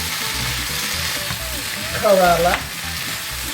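Bitter gourd (ampalaya) pieces toast and sizzle in a hot pan with a steady, close frying hiss and a brief stirring scrape near the middle, and a voice speaks briefly over it.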